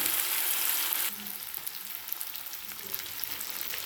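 Food frying hard in a pan over high heat, a steady loud sizzle that drops sharply after about a second as the contents are stirred once, leaving a quieter crackling fry with small scraping touches.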